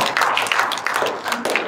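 Audience members clap briefly and unevenly, close and fairly loud, in a short burst with individual slaps audible and no talk.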